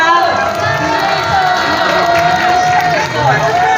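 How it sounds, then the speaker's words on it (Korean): Crowd cheering and whoops at the Wednesday demonstration on the Japanese military sexual slavery issue, a loud, steady mass of voices with a few rising shouts, continuous for the whole stretch. "큰 박수 부탁드립니다"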